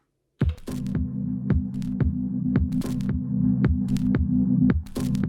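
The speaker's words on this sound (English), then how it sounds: "You see that the sound starts pumping." A low synth drone that swells and ducks in steady rhythm from sidechain compression, pumping in time with sharp clicking beats from an Elektron Digitakt, alone with no voices.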